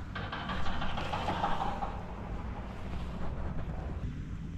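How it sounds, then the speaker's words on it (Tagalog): Wind gusts and rumbles steadily against the microphone at a cold mountain campsite in Atok, Benguet, a rough, continuous roar with no voices. "Medyo naghahangin-hangin na ngayon dito"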